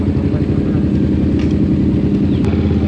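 A motorcycle idles in a parking area at a view deck above the Banaue rice terraces in Ifugao, giving a steady, loud, low engine drone throughout.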